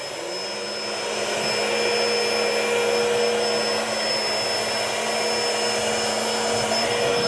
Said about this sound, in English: I can turn the vacuum on and off.